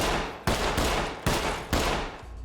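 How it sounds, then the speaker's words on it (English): Pistol gunfire in a SWAT video game: three loud, booming shots spaced about half a second apart, each followed by a heavy rolling decay. "And then pulling out your pistol and gunning them down"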